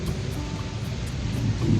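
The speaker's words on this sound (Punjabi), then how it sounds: "ਅੱਜ ਬਹੁਤ ਜ਼ਿਆਦਾ ਮੀਂਹ ਆਇਆ" Heavy rain pours down steadily on a village in a dense, rumbling wash of noise, loud and unbroken throughout.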